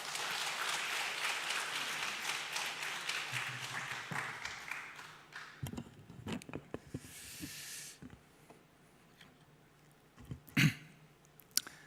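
A church congregation at a Wednesday service gives a brief round of applause to welcome a preacher, a dense patter that fades after a few seconds into scattered rustling and a few louder knocks.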